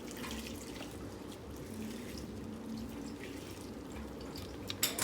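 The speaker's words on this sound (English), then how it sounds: "we'll keep them in the strainer and then just rinse them with water to get off any of the impurities or debris with them" Lentils are rinsed under running water in a strainer, a faint, steady trickle and splash from a tap that continues throughout, with a few louder drips and clatters near the end.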